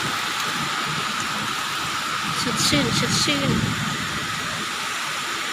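Steady rain hisses down on surfaces nearby, with a person speaking briefly in the middle.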